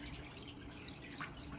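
Water sprayers cross-spraying over small baskets in a garage container garden, a fine continuous hiss and patter of droplets, quiet and close, with no talk.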